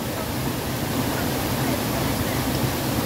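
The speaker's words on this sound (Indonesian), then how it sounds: "Liatin air terjun." A waterfall beside a river, a dense, continuous broadband rush of falling water that fills the whole clip evenly and loudly.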